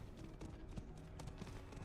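Rapid, faint clip-clopping horse hooves in Diablo 4, a steady galloping patter running for about two seconds under game ambience.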